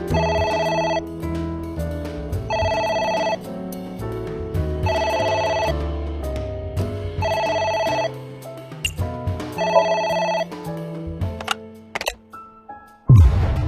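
A telephone rings in the video game AI: The Somnium Files, its electronic ring tone repeating in regular bursts over a musical backdrop and ending with a sharp jolt.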